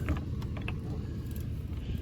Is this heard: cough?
no